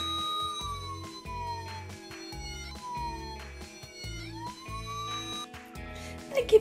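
A Playmobil toy rescue ambulance plays an electronic wailing siren, repeating rising and falling tones in a thin, tinny loop at close range.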